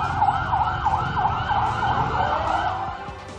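Wailing fire truck sirens cycle up and down repeatedly, loud and near, arriving at a fire over the rumble of vehicle engines and traffic.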